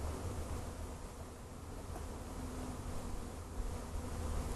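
A honeybee swarm buzzes as a steady, dense hum that fills the whole stretch, close and unbroken, with a faint breezy hiss underneath and no talking.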